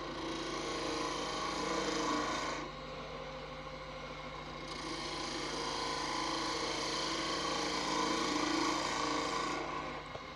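A weak, flexing eucalyptus wand spun on a wood lathe under very light gouge cuts, giving a continuous close hiss and scrape over the motor's hum that swells and eases as the tool moves on and off the wood.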